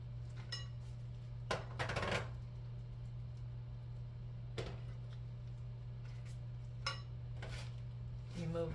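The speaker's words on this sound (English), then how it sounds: "So we're gonna mix that in with the cream cheese." Drained canned white crab meat, six ounces, being stirred into cream cheese in a kitchen, with a few sparse utensil clinks and scrapes against a bowl over a steady low hum.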